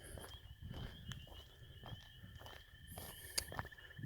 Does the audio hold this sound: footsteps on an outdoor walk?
yes